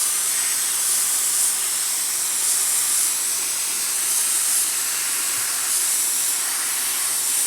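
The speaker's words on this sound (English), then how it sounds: "These are the onions that are being misted, making sure that we get them" Misting spray on onion bulbs, a continuous, even hiss of fine water spray that runs steadily throughout at moderate level with no pauses or talk.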